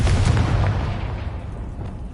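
A Confringo fire spell from a Harry Potter video game bursts loudly at the start, with a booming blast whose rumble gradually fades over two seconds.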